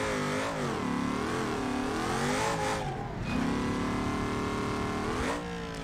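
A video game car revs at full throttle for a jump, a loud continuous engine roar with rising and falling pitch as it accelerates, with no talking.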